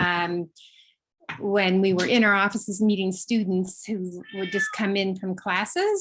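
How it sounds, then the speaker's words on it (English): A house cat meows close to a microphone during an online presentation from home, one or two short tonal cries at the start, then a person keeps talking over the room. "I apologize for the cat meowing"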